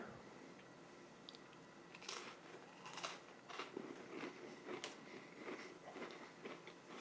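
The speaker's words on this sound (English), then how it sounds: "Cracker tastes good, nice and crunchy." A crunchy peanut butter cracker from an MRE is chewed close up, giving a run of irregular crisp crunches and bites that grow busier after the first couple of seconds.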